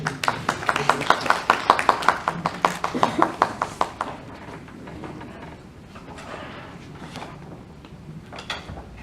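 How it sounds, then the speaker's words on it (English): Applause from an award ceremony audience as a presenter is called to the stage, a burst of sharp, fairly close claps for about four seconds that thins out into scattered clapping and room murmur. "Put a big applause for her."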